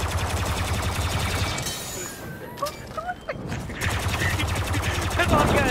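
Rapid bursts of blaster-style gunfire in Star Wars Battlefront 2 rattle along in a dense stream, pause briefly, then resume loudly, mixed with players talking over voice chat.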